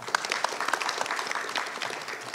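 An audience claps steadily to welcome panelists at a roundtable during an international off-site construction symposium. The clapping is moderately loud and continuous, and the individual claps are dense and irregular.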